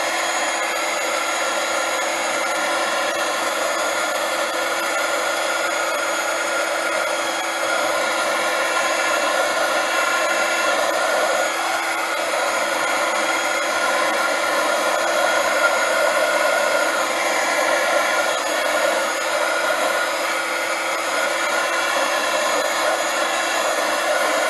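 A hair dryer blows in one steady, loud, unbroken whirr while it dries rubbed craft material for a rust-effect paste finish, with no voices.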